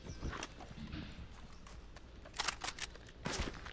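Horse hooves clip-clopping in the video game Red Dead Redemption 2, a faint run of hoofbeats with a few sharper bursts toward the end, heard without talk over it.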